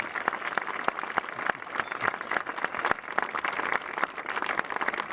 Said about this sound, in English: Let's have a round of applause and appreciation for them